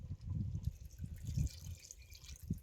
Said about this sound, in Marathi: आता हे ताटातलं गरम पाणी यात घालतो